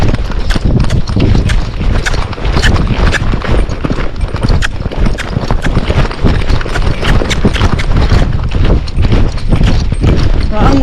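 Tennessee Walking Horse cantering in a training session, loud close hoofbeats in a quick rolling three-beat rhythm thudding on the ground throughout, with a rider's voice speaking over them.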